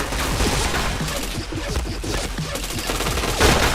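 Sustained automatic gunfire in the shooter video game Point Blank, rapid overlapping shots in a loud, dense stream that stays constant and up close.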